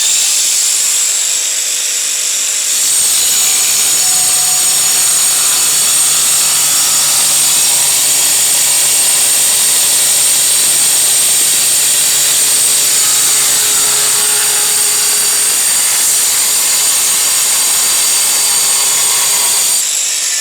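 Brushless angle grinders, a Chuang 1300W and a Bosch GWS 9-125S, spin up after a moment and run with a loud, steady high-pitched whine, the tone shifting slightly as the disc bears on the work before winding down.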